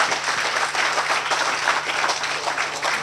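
Warm, continuous applause from a crowd at an outdoor foundation-stone ceremony for a school complex in Brokopondo, a thick wash of many hands clapping at an even level with a low steady hum underneath.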